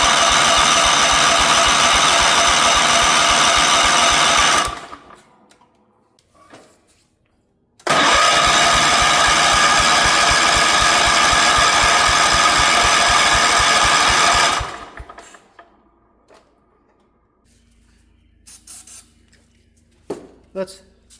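A 1977 Wheel Horse B-100 lawn tractor engine is cranked on its starter with a little throttle, giving two long bursts of loud rhythmic cranking separated by a pause, then quiet with faint clinks afterward.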